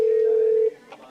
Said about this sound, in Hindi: अब देखिए यहाँ पर एक फ़ोन आया है सीधे तौर पर